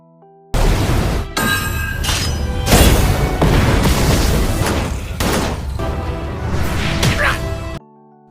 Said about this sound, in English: Neni deployed a missile attack, then Iska and Jaehin attacked the enemy tro